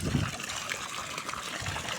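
Water trickles hard and steadily from a cold, sweating pipe into a seaside setup. The flow sounds close and continuous, with no voices over it.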